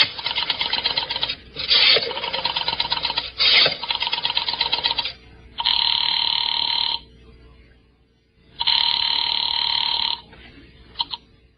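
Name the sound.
telephone ringing after dialing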